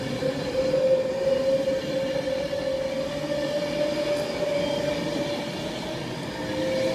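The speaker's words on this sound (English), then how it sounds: "The passing straight through platform 5 at Stafford is 91-114" Class 91 locomotive 91114 on a London Euston to Edinburgh service passing straight through platform 5 at Stafford station, a loud sustained rumble with a steady high wheel squeal and rail noise, close and without talk.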